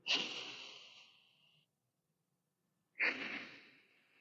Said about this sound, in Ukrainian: Це горлове дихання, яке робиться через ніс.